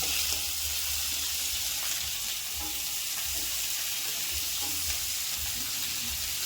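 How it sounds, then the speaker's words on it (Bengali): Chopped onions fry in rendered mutton fat with a steady, dense sizzle that stays loud and close throughout, with faint stirring clicks and no talking. "এবার পেঁয়াজটা একটু সুন্দর করে লাল লাল করে একটু ভেজে নেব"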